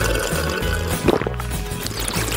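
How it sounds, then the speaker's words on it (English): Liquid pours steadily into a glass in an animated food-challenge cartoon, a continuous close, fairly loud stream lasting a couple of seconds with a brief surge partway through. "What did they pour into my glass this time?"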